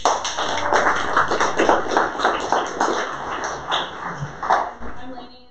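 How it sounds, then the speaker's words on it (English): An audience gives a round of applause at a tech meetup, steady dense clapping from many hands filling the room throughout, with a few voices and cheers rising over it. "Round of applause."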